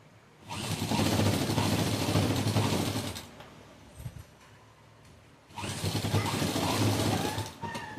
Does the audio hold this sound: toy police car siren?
no